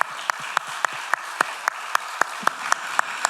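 A church congregation at a Sunday morning service claps in steady unison, sharp and evenly spaced about four times a second, over a softer wash of crowd applause.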